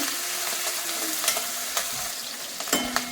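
Garlic, green chili and ginger sauté in oil in a pan, giving a soft continuous sizzle with occasional spatula scrapes and clinks close by, and no voices.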